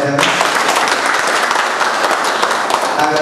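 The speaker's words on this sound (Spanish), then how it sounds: "Fuerte el aplauso para él también." An audience at the opening of a painting exhibition applauds loudly and steadily for the full length, a dense, close wash of many hands clapping with no pauses.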